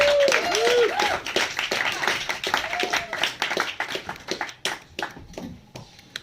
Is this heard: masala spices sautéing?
no